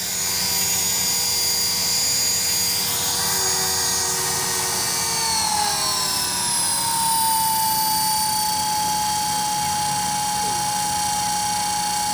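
T-REX 450 Sport RC helicopter hovering outdoors, a loud steady high-pitched rotor and motor whine that holds constant throughout, its tone shifting slightly downward midway, close and continuous with no talk.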